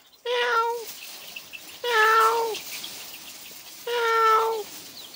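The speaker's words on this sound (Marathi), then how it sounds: "बघा मांजरीचा आवाज आला तर लगेच" A cat meows three times, loud and close, each call drawn out and evenly spaced across a quiet farmyard setting where chickens are raised.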